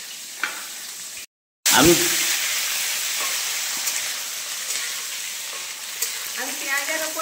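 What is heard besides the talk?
chopped onions frying and sizzling in a pan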